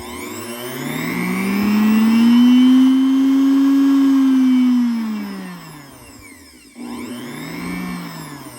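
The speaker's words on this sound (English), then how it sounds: "it will work with a little motor like this with some brushes" A small brushed motor on a dimmer drives a bobbin winder for an industrial sewing machine. It whines up in pitch, holds a steady hum, then slows and dies away before spinning back up briefly.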